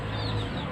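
Chickens cluck continuously in a farm coop during hot weather, a dense low flock murmur that stays steady and fairly loud through the short stretch.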